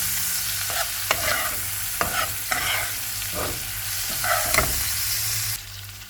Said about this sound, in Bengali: এই তো চিংড়ি মাছটা ভাজা হয়ে গেছে, আমি একটু হলুদের গুঁড়া দিব